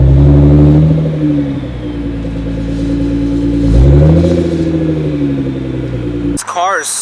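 A 1,000 HP Nissan GTR accelerates hard in third gear, heard from inside the car as a loud, droning engine roar that swells and rises in pitch before cutting off abruptly near the end.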